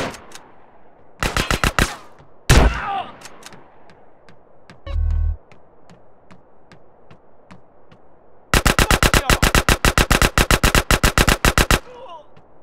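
Gunfire in GTA San Andreas: a short rapid burst, a single loud shot, then a long sustained automatic volley of evenly spaced, sharp reports, close and loud with quiet ambience between.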